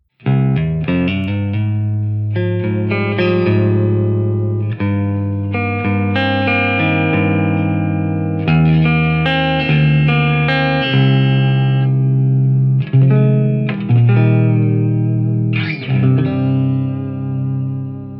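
Electric guitar with Jazzmaster pickups played through the D.A.R.E. effects pedal with Model FET distortion into a JMP 2203 amp plugin, loud sustained distorted chords and picked notes with modulated, echoing tails, no talking.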